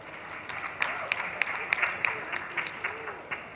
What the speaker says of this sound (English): Another round of applause to our students.